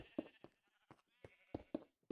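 Sheep in Minecraft bleat in several short, separate calls that come at an uneven pace, each one quiet and close with brief silences in between.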